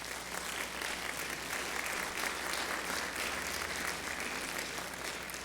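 A church congregation gives loud, sustained applause to the Lord, a dense, even wash of clapping that holds steady from start to finish.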